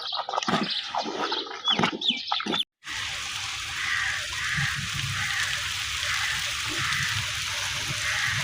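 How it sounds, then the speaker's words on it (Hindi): Rain falls steadily in a village, a dense, even hiss. Busier, mixed sounds come first, then a brief cut, then the rain continues alone. "बारिश भाई शुरू हो चुकी है"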